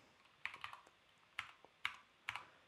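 Calculator buttons are pressed in quick clusters of sharp, light clicks, close and clear against a quiet background, with a pause in the middle.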